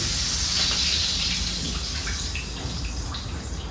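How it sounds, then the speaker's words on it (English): Milk poured into melted butter in a pot, a steady gushing pour with a continuous liquid rush over a few seconds. "we are going to put some milk."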